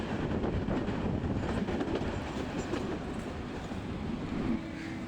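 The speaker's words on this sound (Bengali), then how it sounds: "তো ট্রেনটা চলতেছে, ট্রেন ছেড়ে দিছে।" A passenger train rolling along in Bangladesh, heard from inside as a continuous low rumble with rhythmic clatter of wheels on track, steady and fairly quiet throughout.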